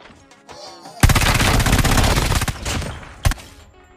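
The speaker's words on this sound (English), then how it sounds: "I have a close-range hipfire build for the Switchblade X9, which is a pretty powerful submachine gun" Switchblade X9 submachine gun in COD Mobile battle royale firing a loud, sustained burst of rapid automatic shots for about two seconds, tapering off, followed by a single sharp shot near the end.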